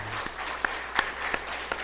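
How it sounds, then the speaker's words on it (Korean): A church congregation applauds during a Sunday worship service, a steady wash of clapping with a few sharper claps standing out, brief and fairly close. "박수로 환영해 주시기를 바랍니다"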